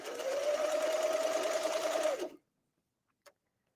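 A Brother sewing machine stitches slinky T-shirt fabric with a steady, close whirring run of about two seconds that stops abruptly, followed by quiet and a single small click.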